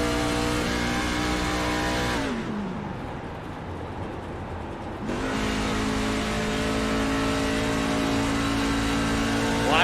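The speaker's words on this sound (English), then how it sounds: "Listen to him cut that truck off." A race truck engine in a racing video game at Dover drones loudly, then cuts off as the truck coasts into a corner. Its pitch sags before the engine comes back and revs steadily.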